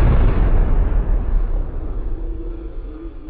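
A loud bang from a firecracker set off at a town fountain bursts at the start, then a deep rumbling blast echoes and slowly fades over a few seconds.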